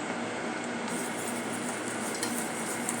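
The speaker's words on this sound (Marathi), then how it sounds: "पहिला मिनिटभर चांगले फेटून घेऊया." Pancake batter made from Pillsbury premix and milk being whisked by hand in a bowl, a steady continuous scraping and stirring swish with light utensil clinks, close and alone without talk.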